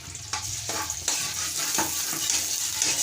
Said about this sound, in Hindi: बादाम जो हमारे हैं इनको हम कर लेंगे फ्राई